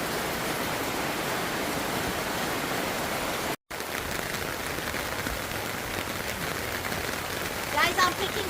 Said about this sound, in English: Ooh, nice cold rain.